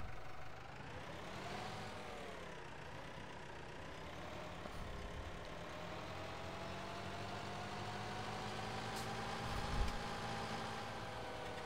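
A tractor engine runs in a farming video game, a quiet, steady droning hum with a constant tone that holds throughout, with no talk over it.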